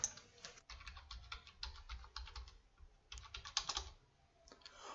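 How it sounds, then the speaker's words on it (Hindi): Number keys on a computer keyboard are typed in quick bursts of light clicks, close and quiet, with brief pauses between groups of keystrokes. "यहां पे आपको अपना आधार नंबर जो है वो टाइप कर देना है"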